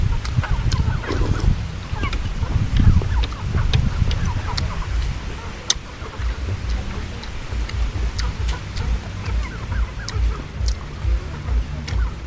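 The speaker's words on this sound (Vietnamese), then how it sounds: "Mấy gà nãy nhôi kìa." A flock of farm chickens makes scattered clucks and short calls close by, with sharp clicks and rustling over a continuous low outdoor rumble.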